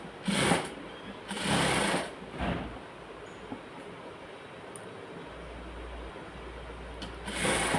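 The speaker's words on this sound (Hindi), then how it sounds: "और अब हम यहाँ पे सिलाई लगा देंगे यहाँ से किनारे किनारे" Sewing machine stitching along the edge of a palazzo trouser with elastic, running in several loud bursts of steady whirring separated by pauses, with a low hum between runs.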